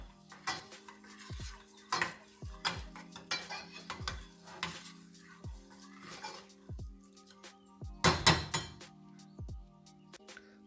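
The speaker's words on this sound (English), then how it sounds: "Give it a good stir." Fenugreek tea stirred in a metal pot with a spoon, a series of sharp clinks and scrapes against the sides in an irregular rhythm, louder clattering bursts near the end, close and otherwise quiet.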